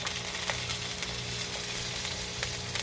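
Garlic and onion sautéing in a pan for a squash-in-coconut-milk dish, a steady soft sizzle with a few faint scrapes, close and even throughout, no voices.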